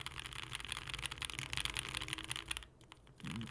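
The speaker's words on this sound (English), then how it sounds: "if someone made a keyboard where all the switches sounded like this home row" Keys on the home row of a Polaris mechanical keyboard are typed in a quick, soft, steady patter of clicks, close and fairly quiet, with a brief pause near the end before typing resumes.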